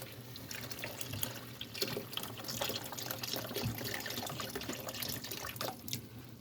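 Beef stock pours into a cooking pot for catfish courtbouillon, a soft uneven liquid splashing and trickling that goes on for several seconds, fairly quiet and with no talk.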